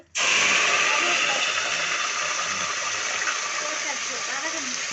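A steady, loud sizzling hiss of mustard seeds and urad dal hitting hot oil, continuous throughout with faint crackles and a voice murmuring underneath.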